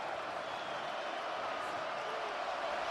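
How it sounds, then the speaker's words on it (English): Steady stadium crowd roar swelling at an NFL NFC Championship playoff game between the Los Angeles Rams and Seattle Seahawks, a dense continuous wash of many voices with no clear breaks. "Crowd noise rises."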